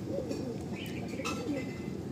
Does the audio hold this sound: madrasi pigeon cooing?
yes